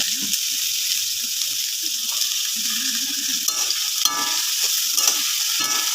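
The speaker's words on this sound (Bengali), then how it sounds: "আমার তেল হয়ে গেছে গরম আর আমি এখানে দিয়ে দেবো কেটে রাখা সবজিগুলো" Chopped winter vegetables sizzle and crackle in hot oil as a spatula stirs them, with steady frying hiss, scraping strokes and a few sharper clinks, close and alone without talk.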